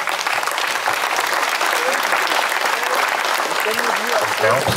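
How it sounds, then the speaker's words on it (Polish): Dense, loud applause from the audience at a cycling championship award ceremony in Jelenia Góra, Poland, continuous and steady with a few voices mixed in. "Drodzy Państwo, wielkie, wielkie brawa!"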